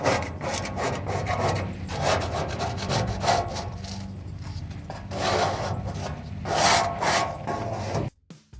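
Repeated scraping strokes across the grates of a Hasty Bake Legacy charcoal grill, close and rough, in uneven bursts that rise and fall before stopping abruptly at the end.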